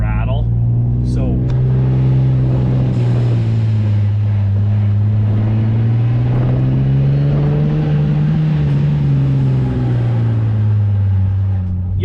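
A Nissan 350Z with a Circuit Werks resonated Y-pipe drones loudly up close, a steady low exhaust tone rising and falling slightly with a rattly buzz over it, continuous throughout.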